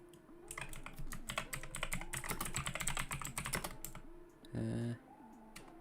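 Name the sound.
typing on a loud computer keyboard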